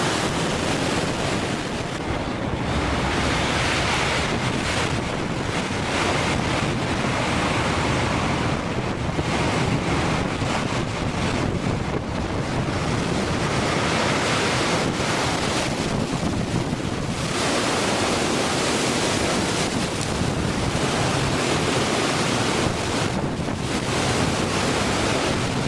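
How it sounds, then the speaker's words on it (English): Huge storm waves crash over the deck of a loaded cargo ship in the Bay of Biscay, a continuous loud roar of surf and rushing water mixed with heavy wind buffeting, with no voices. "The waves passed through the entire deck of the ship."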